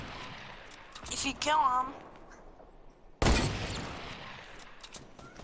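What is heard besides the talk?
assault rifle gunfire in the video game Fortnite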